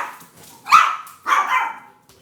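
Two loud, close barks from an indoor dog, the second longer and more drawn out, with quiet room noise between them and no talking.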